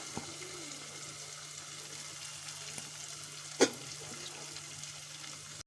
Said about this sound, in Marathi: आता हा असा भात चिरून घ्यायचा मिक्स करून घ्यायचा